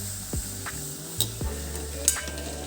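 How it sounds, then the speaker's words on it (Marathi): Maggi samosas fry in hot oil, giving a soft, steady sizzle close by with occasional brief clicks and scrapes. "आता आपण एक एक करून समोसे छान तळून घेऊ"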